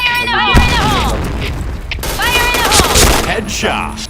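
Gunfire rings out in the video game Point Blank as bursts of shots and booms over game sounds, close and loud, with a voice talking over part of it.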